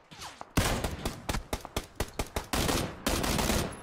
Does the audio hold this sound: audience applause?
no